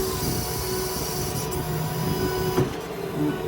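A steady mechanical whine and hum runs from the crane winch on a 2008 Ford F550 4x4 mechanics service truck as it pulls back up, close and continuous with a brief clunk near the end.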